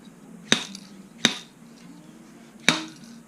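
Three sharp, loud metallic whacks, spaced unevenly, ring out against a Honda CRF150r front fork as the oil seal is driven out, each impact followed by a brief clinking decay over a low steady hum.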